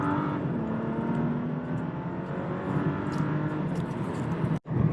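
A BMW 435i in Sport Plus mode accelerates hard from 0 to 60, its engine note a loud, steady rising drone with tire and road roar, cut by a brief gap near the end, and no talking.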